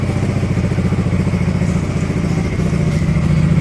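A Yamaha XMAX 250 scooter engine idles steadily and close by, giving a continuous low rumble with a faint clattery texture and no talk over it.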